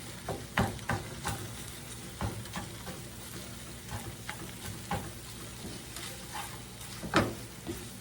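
A spoon stirs and scrapes a cream cheese mixture as it melts in a hot pan for shrimp toast. Irregular soft scraping strokes sit over a faint, steady sizzle, fairly quiet and close, with no talking.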